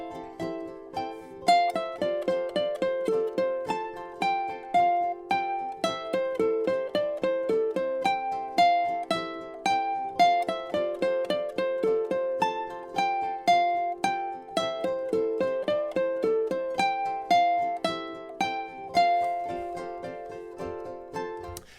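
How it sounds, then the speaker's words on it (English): The advanced melody on ukulele, played with thumb technique, rings out as a lively picked line over plucked chords. It is close and clear, with a steady rhythm throughout and no talking. "let's go ahead and hear what the more advanced melody sounds like"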